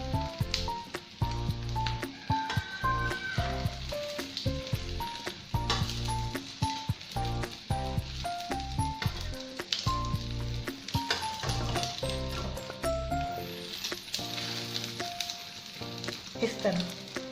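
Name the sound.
tamagoyaki egg omelette sizzling in pan while folded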